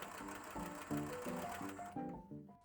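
A sewing machine stitches sleeves onto a blouse in short bursts, its motor whirring in a rhythmic, pulsing hum that rises and falls with each push, close and clear with no talking.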